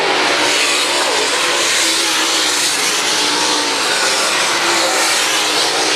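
USMTS modified race cars battle for position at LA Raceway, their engines merging into one loud, unbroken roar that holds steady from start to finish with no voices over it.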